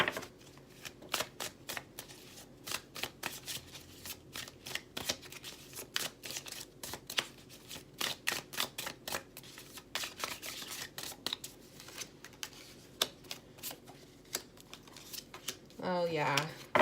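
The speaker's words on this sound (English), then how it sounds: "So let's just pull a couple tarot cards." Tarot cards are shuffled and pulled by hand during a spirit guide reading, giving a run of close, crisp riffling and snapping card sounds in irregular bursts, with a brief voice at the very end.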